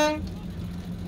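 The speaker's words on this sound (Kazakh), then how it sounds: "О, сигналы." A car horn gives one short toot right at the start, over the steady rumble of traffic at a busy car market in Osh.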